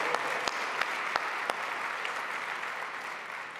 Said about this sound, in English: So yeah, we can clap for that.